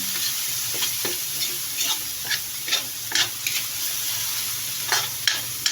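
Garlic and onion sizzling in a frying pan, a steady close hiss of frying broken by irregular scrapes and clicks of a spatula stirring.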